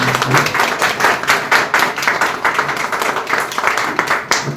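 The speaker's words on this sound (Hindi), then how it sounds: "हम ताली बजाकर उनका स्वागत करें" An audience claps steadily to welcome a guest speaker at a Sanskrit lecture at the Government Sanskrit College, Kajipur, Patna. The dense, even clapping fills the room throughout, with a faint voice briefly at the start.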